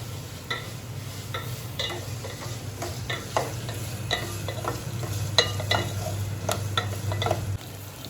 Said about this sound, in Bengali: আমাদের এবার কেটে রাখা আলুটা দিয়ে দিচ্ছি আমরা